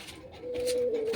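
Pigeons coo close by in a soft throaty murmur that swells into a sustained rolling call, heard alone on a rainy day.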